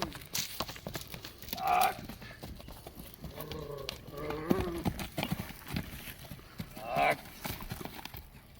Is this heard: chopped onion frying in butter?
no